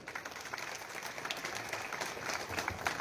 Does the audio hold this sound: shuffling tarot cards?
no